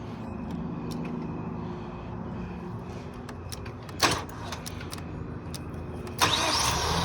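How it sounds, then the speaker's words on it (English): A 2015 Ford Escape with the 2.0 EcoBoost engine turns over and fires up, with a steady mid-range engine drone, a sharp transient near the middle and a louder surge of engine noise toward the end, with no talking. "It just made it start without moving the key."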